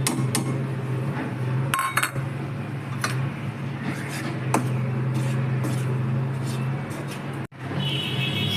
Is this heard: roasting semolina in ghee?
yes